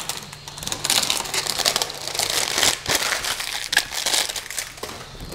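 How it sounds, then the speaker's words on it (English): Protective sticker peeled from the bed of a Creality CR-6 SE 3D printer, a continuous crinkling, crackling rustle of plastic film with sharp snaps, close and fairly loud with no voices. "Let's peel off the sticker and level the bed."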